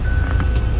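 A car's seatbelt warning chime, a thin steady electronic tone sounding inside the cabin over low engine and road rumble.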